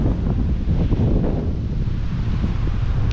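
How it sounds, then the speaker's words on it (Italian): Heavy mountain wind at Lake Ghirla roars against the microphone in a continuous low rumble, gusting without pause for a few seconds. "Il vento c'è."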